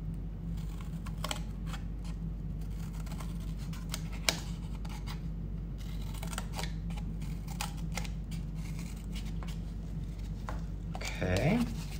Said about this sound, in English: to cut through the cardboard